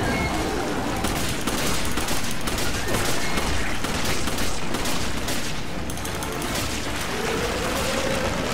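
Dense, continuous gunfire from Resident Evil 5 gameplay, rapid shots layered into a loud, steady barrage with no pauses across the whole stretch.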